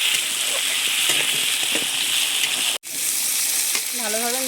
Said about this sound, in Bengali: আলু দিয়ে আমি ভালোভাবে পেঁয়াজের সাথে নেড়ে চেড়ে ভালোভাবে মিশিয়ে নিচ্ছি।